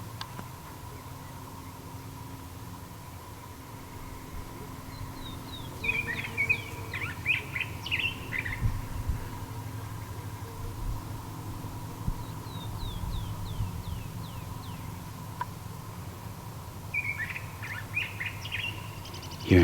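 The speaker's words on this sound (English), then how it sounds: "Hearing birds and bees." Birds chirping in the Saguaro desert wilderness near Tucson, Arizona: scattered bursts of quick descending tweets, moderately distant, over a low steady ambient hum and faint rustling.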